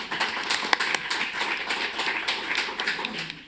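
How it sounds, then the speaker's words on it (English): Applause from an evening audience at a community forum on addiction in Harford County, a dense steady patter of many hands clapping throughout, moderately loud and fairly close. "Please give a round of applause for Suzanne."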